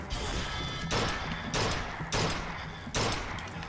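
Sniper rifle fire in the BioShock Infinite Clash in the Clouds DLC: four sharp, heavy shots spaced about half a second to a second apart, each with a short ringing tail over a constant low game ambience.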